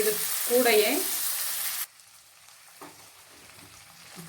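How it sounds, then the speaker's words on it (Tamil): About 300 grams of green peas are lightly sautéed in a pan for a peas and paneer gravy, giving a loud, steady sizzle that suddenly cuts to near silence, with faint stirring after. "லைட்டாக வதக்கிக்கிறணும்"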